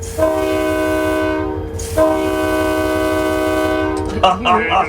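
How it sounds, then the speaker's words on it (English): A loud train air horn blasts twice in long sustained chords, close by, followed by a brief burst of voices. "the air horn on that train, that really rocked"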